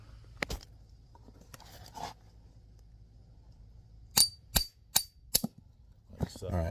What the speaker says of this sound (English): you gotta kind of beat the lug nut back out of the socket there